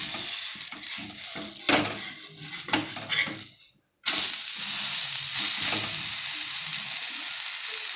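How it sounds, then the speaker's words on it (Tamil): A carrot dosa cooks on a hot pan with loud, continuous sizzling and hissing. Utensil clinks and scraping come through the first half, then a short silence before the sizzle returns steady and bright. "கேரட் தோசையை வந்து நீங்கள் திருப்பி போட்டிங்கன்னா நல்லா வேகும்"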